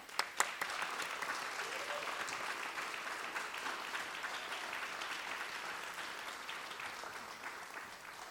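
Steady audience applause for students at a storytelling show, many hands clapping evenly and fairly loudly without a break, with a few sharper claps near the start.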